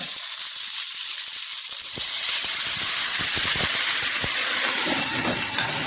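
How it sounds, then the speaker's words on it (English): A loud, steady sizzling hiss starts suddenly as water is added to pot stickers frying in a pan, crackling pops throughout, close by and continuous. "And now we're going to steam them the rest of the way. We're going to add a little water."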